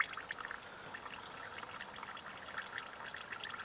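Faint, steady trickle of fluid draining from a motor into a container, a continuous gentle liquid pour with small splashy drips, quiet and alone.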